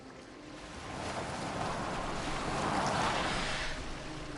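A boat slides across open water in Assassin's Creed Valhalla, a soft broadband wash of waves and wind that swells gradually and stays steady and fairly faint, with no voices.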